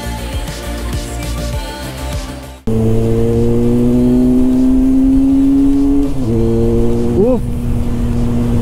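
A Benelli Leoncino 500 motorcycle engine revs up, its pitch climbing steadily through one gear and then stepping through shifts, loud and close after a brief cut from a rougher opening passage.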